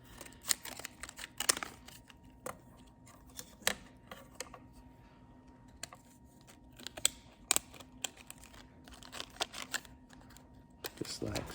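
Scissors snip and crinkle through plastic packaging around a tiny Nebo micro headlamp in a string of close, sharp little clicks and cuts with rustling between them.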